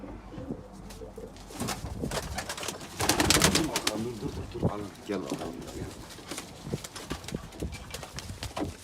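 Pigeons in a loft give soft throaty coos and wing flutters, heard close alongside someone talking over them.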